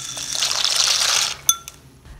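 Water pours steadily into a pot for boiling pasta, a bright splashing rush that stops after about a second and a half, followed by a couple of sharp metallic clinks.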